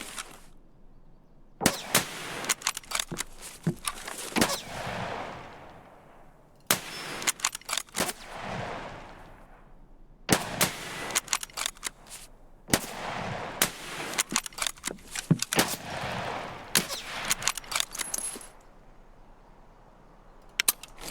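Gunshots in the shooter game SPT Tarkov crack out in sharp, loud bursts and rapid clusters, with short pauses between volleys across the whole stretch.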